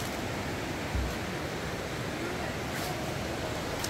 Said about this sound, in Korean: 물소리만 들어도 시원하네.